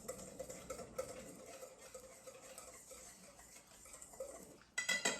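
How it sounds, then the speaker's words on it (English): Flour batter with Italian herb seasoning whisked in a bowl, faint quick scraping and light clinks of a utensil against the bowl, with a sharper clatter at the end. "So now let's go ahead and whisk it up."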